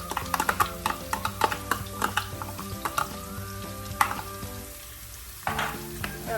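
Green chilli with crushed ginger and garlic sautéed in a pan for butter chicken, heard as a rapid run of close utensil scrapes and taps over a sizzle, pausing briefly before a final stir.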